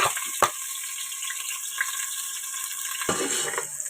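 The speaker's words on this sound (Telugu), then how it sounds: "ఇగోండి ఆనియన్స్ వేగుతున్నాయి" Sliced onions with green chillies and bay leaf frying in a pot for chicken dum biryani, a steady faint sizzle with a few soft clinks and stirring scrapes, close by.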